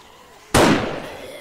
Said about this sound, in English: I don't know how big an explosion this is going to be.